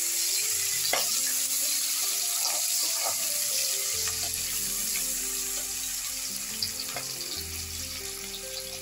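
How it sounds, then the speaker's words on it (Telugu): Chopped onion frying in a pan for homemade vegetable biryani, a steady close sizzle throughout with light scraping and stirring clatter, no voices. "ఆనియన్ కొద్దిగా ఫ్రై అవుతుంది."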